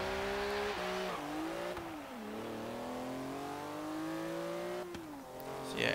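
Porsche Cayman GT4 engine in Forza Horizon 3, revving steadily on a circuit with pitch climbing through gear changes and brief dips at shifts, loud and continuous with no talk.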